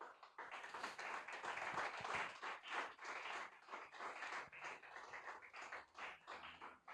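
Applause from a church congregation during a sermon, a cluster of hand claps in uneven bursts that rise and then thin out into scattered claps, fairly faint and distant.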